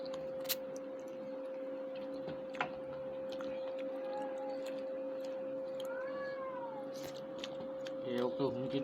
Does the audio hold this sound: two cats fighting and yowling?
yes